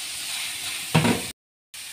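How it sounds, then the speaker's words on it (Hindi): Shredded chicken stirred into a hot pan with onion, garlic and chilli, giving a steady sizzling hiss, a brief louder burst of stirring, then a short cutout before the sizzle resumes. "तो अब मैं इसमें शामिल करने लगी हूँ ये शेड किया हुआ चिकन। इसको अच्छी तरह से मिक्स करेंगे"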